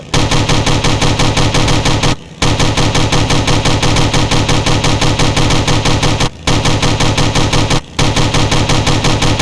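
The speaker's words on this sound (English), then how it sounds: "Everything falls victim to the heavy machine gun." Relentless rapid-fire heavy machine gun bursts in a video game, loud and close, a dense rattling stream broken by a few brief pauses.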